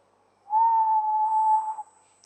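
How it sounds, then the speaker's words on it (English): A single sustained low whistled note, held steady for just over a second, clean and close with no other sound around it. "what I've experienced is when I'm whistling a low note"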